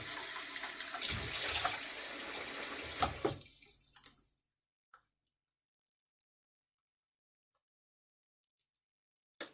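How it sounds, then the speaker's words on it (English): Red lentils rinsed under a running kitchen tap, a steady broadband rush of water for about four seconds that cuts off abruptly, followed by near silence with a couple of faint clicks. "So, let's wash this out. I'm talking about the red lentil."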